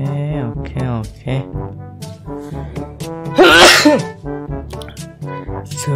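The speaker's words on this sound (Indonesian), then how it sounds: "Sorry, bersin." A single sharp sneeze bursts out in the middle of talk, loud and close, during a block jigsaw puzzle mobile game session; someone speaks before and after it.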